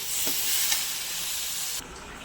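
Tomatoes with a little salt sizzle steadily in a frying pan for a chicken and potato curry, with a couple of scraping stirs early on before the hiss softens abruptly near the end.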